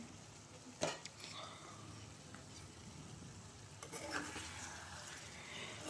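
Dried fish curry seasoned with salt and turmeric simmers in a pan, giving a steady soft sizzle and bubble, with a sharp utensil clank near the start and another cluster of metallic scrapes toward the end.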